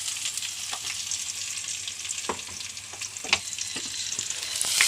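Crushed shallots and curry leaves hit hot oil in a pan for a fish curry tempering, producing a bright, continuous sizzle with sharp crackles and pops, close and without talk.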